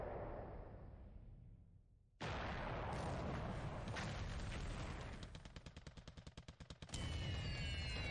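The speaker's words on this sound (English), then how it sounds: "Good number of bomb hits actually from Avengers there" Bombs from Avenger bombers striking in a Pacific war video game: a loud blast cuts in after a fading rumble, followed by a sustained roar with rapid clattering bursts and a second heavy impact.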